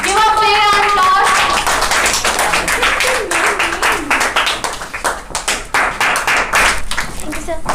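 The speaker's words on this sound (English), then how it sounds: "Give a big round of applause." Ceremony audience at a monthly rewards and recognition event clapping in a burst of irregular handclaps, loud and close, with voices talking and calling out over it.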